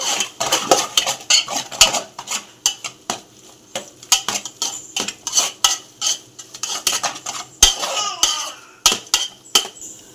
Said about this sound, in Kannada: ಚೆನ್ನಾಗಿ ಈ ಥರ ಕೈ ಆಡ್ಕೋಬೇಕು.